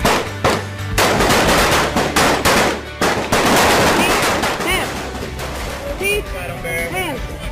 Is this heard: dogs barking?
no